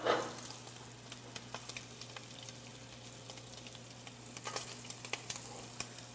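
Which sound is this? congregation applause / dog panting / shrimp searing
shrimp searing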